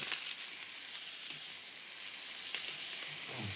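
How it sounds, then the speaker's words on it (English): Dried chili flakes toast in hot oil in a pan for linguine with broccoli and clams, giving a steady close frying sizzle with soft crackles and no talk. "Let's put a little peperoncino. Let that toast."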